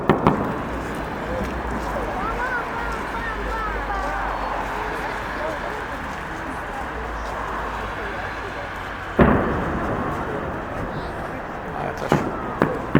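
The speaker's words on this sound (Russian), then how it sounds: "Салют, посвященный Дню Советской Армии Военно-Морского флота." A festive salute in Kaliningrad for Soviet Army and Navy Day, fired as volleys from ZIS-3 field guns, with a few sharp booms over a steady murmur of an outdoor crowd.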